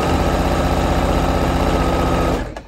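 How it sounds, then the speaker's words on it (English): Sewing machine running steadily while stitching channel fabric for a shoe bag drawstring tunnel, a fast even mechanical whir and rattle, close and loud, stopping abruptly near the end. "I'm going to backstitch. And I'm sewing all the way along."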